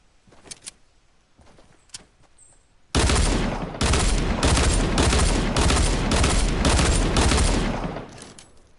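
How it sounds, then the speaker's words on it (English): Video game gunfire: a few isolated shots, then a sudden loud, sustained burst of automatic fire with rapid repeated cracks lasting several seconds before cutting off. "Did you just hear that shooting?"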